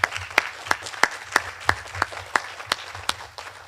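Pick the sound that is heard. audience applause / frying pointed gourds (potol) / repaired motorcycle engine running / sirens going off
audience applause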